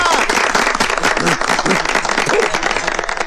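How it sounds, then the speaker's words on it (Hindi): Dense, continuous applause from a crowd in a village gathering honouring a brave young man, steady and loud throughout with a few voices mixed into the clapping. "तालियां।"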